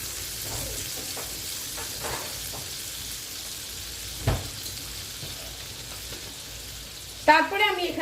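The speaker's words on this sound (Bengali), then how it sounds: "পুরোটা বাটারে করলেও করতে পারো বাট আমি একটু হোয়াইট অয়েল মিক্স করে নিলাম খুব একটা বেশি অয়েল এখানে লাগবে না দেখো এটা একটু মেল্ট হয়ে যাক" Butter and white oil melting in a pan, a faint continuous sizzle with light crackles and a couple of soft clinks, under a woman's speech.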